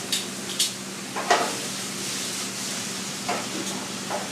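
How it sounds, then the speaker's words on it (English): Soft, steady simmering hiss of beef stock in a pot with beef base dissolving, with a few light scraping clinks of stirring, close and quiet. "Continue to stir the stock in the back so that beef base is dissolving"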